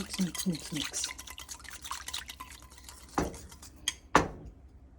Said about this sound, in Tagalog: tapos haluin lang po natin siyang mabuti